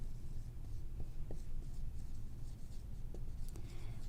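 Pen scratching across paper while working out a maths equation, soft continuous strokes with a few light taps, close and fairly quiet.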